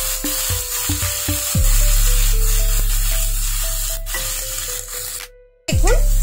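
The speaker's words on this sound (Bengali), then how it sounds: "পেঁয়াজটাকে ফ্রাই করে নেব।" Sliced onions fry in hot oil for a Bengali small puti fish curry, a steady close sizzle under background music, with a brief dropout near the end before the hiss resumes.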